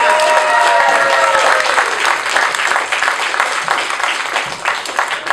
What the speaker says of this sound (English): how about a round of applause for our panel of